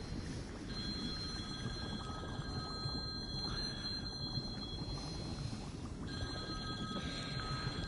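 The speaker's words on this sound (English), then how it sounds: "Hold on one minute, Joe's ringing me" A phone rings during a free-diving game session, heard as a steady repeating electronic ring tone sitting over a constant dense background wash, with no talking.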